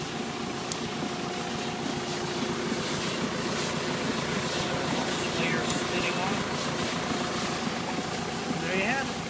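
A Rain-Flo 2550 plastic mulch and drip tape layer runs in the field, giving a continuous engine drone with a rough, hissing mechanical rumble that stays at an even level throughout.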